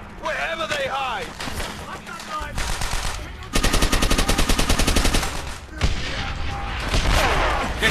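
Rapid automatic gunfire bursts in a video game shootout, loud and repeated in rhythmic rattling volleys, with players talking over the shooting.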